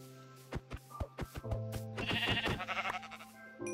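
Sheep in the Minecraft video game bleat repeatedly in short, close calls, overlapping at times, with game clicks and rustles between them and no talking.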